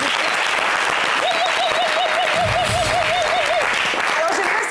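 Studio audience at a live French-language television variety show breaks into dense, sustained applause, a steady wash of clapping that fills the whole stretch, with a warbling musical tone running through the middle.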